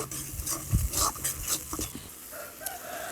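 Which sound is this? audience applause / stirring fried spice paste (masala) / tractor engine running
stirring fried spice paste (masala)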